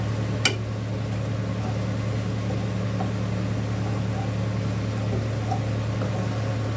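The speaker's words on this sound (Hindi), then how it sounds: "मेरे पंखे और एग्जॉस्ट फैन सब चल रहा है।" A ceiling fan and an exhaust fan running together in a home kitchen while Bihari mutton cooks: a loud, steady droning hum and whir, continuous and unchanging throughout, with a faint click near the start.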